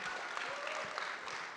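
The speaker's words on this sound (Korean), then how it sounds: "이런 착한 생각 다시 한번 박수 부탁드립니다" Steady audience clapping at a talk show with a young cattle farmer, a dense, even wash of applause with a few faint louder claps, continuing throughout.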